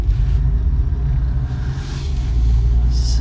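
A car drives along a road with a steady low rumble of engine and tire noise, heard from inside the vehicle.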